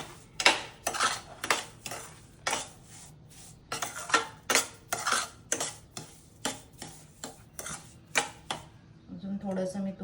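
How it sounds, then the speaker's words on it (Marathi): A spoon stirring semolina (rava) in ghee in a cooking pan for suji halwa, irregular scraping and clinking strokes that repeat close by with short gaps between them. "तूप घातल्यानंतर परत रवा चांगल्या पद्धतीने हलवून घ्यायचा तुपामध्ये."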